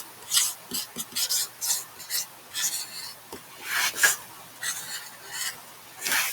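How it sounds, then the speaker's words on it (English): Rocks rubbed and scraped against each other by hand give a run of dry, gritty rasping strokes in an irregular rhythm, close and moderately loud, with no talking. "We can find out by actually rubbing the rocks together."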